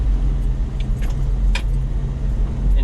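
A cammed TB42 off-road vehicle on new tyres churns through mud, its engine giving a steady close rumble with occasional rattles and squelching splashes, loud and continuous with no talking.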